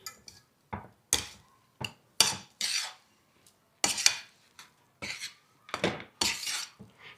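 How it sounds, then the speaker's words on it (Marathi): Sesame seeds being stirred in a pan for sesame chikki, a spoon scraping and clinking in short irregular bursts with brief pauses between, close and fairly loud, no talking. "हे तीळ टाकून घ्यायचे हलवून घेऊ एकत्र करूयात"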